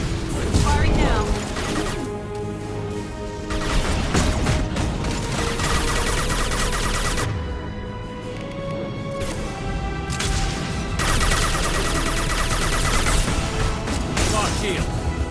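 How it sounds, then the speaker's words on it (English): Weapons fire in a firefight in the Mass Effect 2 video game: dense, overlapping gunshots and impacts that keep up throughout, mixed with game music and voices. "Firing now."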